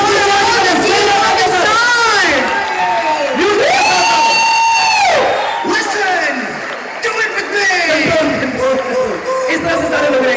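Crowd at an anniversary stage event for company distributors cheering, whooping and clapping, loud sustained shouts rising and falling over a bed of applause, with voices calling out throughout.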